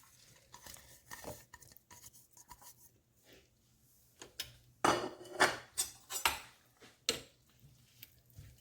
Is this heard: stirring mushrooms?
yes